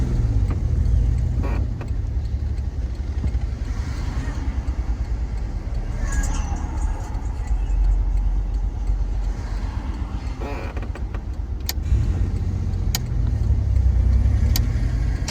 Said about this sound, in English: I can hear my muffler. My muffler is baffling. It needs to be fixed. My muffler have a hole.